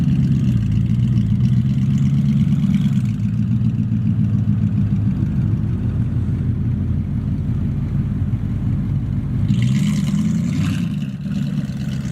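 An NSX sports car engine rumbles loudly and steadily, with a deep throaty exhaust note that swells and revs, dipping briefly before building again near the end.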